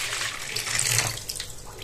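Water is poured for pie dough, making a steady, fairly loud splashing stream with no break for the whole short stretch.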